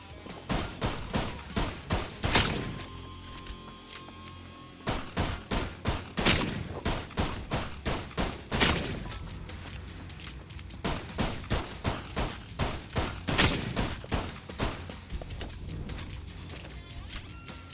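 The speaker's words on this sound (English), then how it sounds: "we'll get rid of the boomstick and have dual pistols for the time being, then" Dual pistols fire in the video game Holy Shoot, loud rapid bursts of sharp shots in quick rhythmic volleys, broken by brief pauses and a few heavier blasts.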